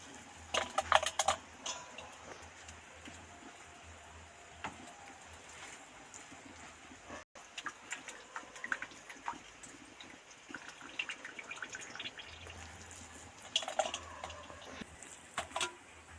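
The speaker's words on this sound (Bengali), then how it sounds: "এবার মোচাগুলো একটু একটু করে নেব আর আস্তে আস্তে এরকম করে জল চিপে চিপে বের করে দেব" Quiet wet squelching and dripping come from chopped banana flower being squeezed by hand to press out water, in soft irregular bursts with occasional small clicks, close by.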